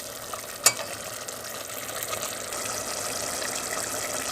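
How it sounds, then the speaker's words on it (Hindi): Spoon gently stirring koftas frying in masala for kofta biryani, a steady sizzle and bubbling with one sharp clink of metal against the pot near the start. "बस कोफ्ते हिलाते हुए आप ज़रा एहतियात करें, चम्मच आराम से चलाएं ताकि कोफ्ते टूटे नहीं।"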